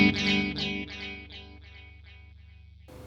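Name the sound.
guitar through St.Rock React:IR II delay effect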